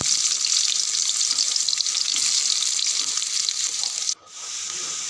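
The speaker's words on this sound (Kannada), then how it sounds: "ಎಣ್ಣೆ ಬಿಸಿಯಾದ ಮೇಲೆ ಕಟ್ ಮಾಡಿದ ಎರಡು ಈರುಳ್ಳಿಯನ್ನು ಹಾಕೊಳ್ಳಿ" Two chopped onions hit hot oil in a pan, a loud steady crackling sizzle close to the microphone that briefly drops away near the end before resuming.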